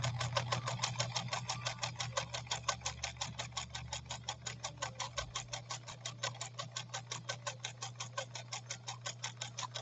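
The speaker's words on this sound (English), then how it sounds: "this vinyl naga hide stuff is really kind of a nightmare to sew." A 1957 Japanese Fleetwood Model 492-TW sewing machine stitches vinyl Naugahyde, its needle mechanism clattering in a steady, fast rhythm close by, the motor hum holding even under the repeated ticking strokes.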